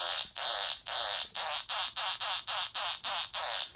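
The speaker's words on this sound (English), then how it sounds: "I have the farting noise." Electronic fart noise from a SmartLab Smart Circuits kit, repeating in a steady rhythm of about ten buzzy bursts with short gaps between them, loud and alone with no talking.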